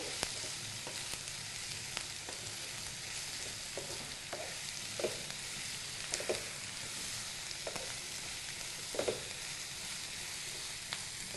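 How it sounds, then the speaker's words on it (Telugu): Onion and capsicum pieces frying in oil for a capsicum tomato curry: a soft, steady sizzle with regular scraping strokes of a spoon stirring them, fairly quiet and with no voices. "ఆ ముక్కల్ని ఇందులో వేసేసుకోవాలి ఆయిల్లో ఆనియన్స్ అలాగే క్యాప్సికమ్ ముక్కలు రెండు కూడా బాగా కలిసేలాగా కలుపుకోవాలి"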